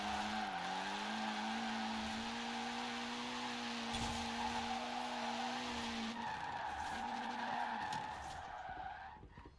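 Tyres squeal loudly and continuously as a Triumph TR7 drifts in Forza Horizon 4, a sustained screech over the droning engine that wavers with each transition and fades out at the end.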